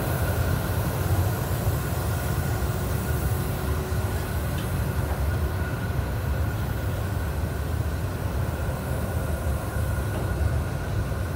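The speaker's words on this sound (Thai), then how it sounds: "รถไฟขบวนสินค้านะครับ725" Steady, heavy low rumble of an Alsthom locomotive hauling freight train 725 arriving at a Thai station, rolling continuously with a constant droning hum and no pauses, fairly close.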